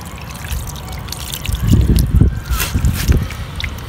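Water being poured out to rinse and clean hands, a splashing, trickling pour that swells midway and runs on for a few seconds, fairly close, with no talk over it.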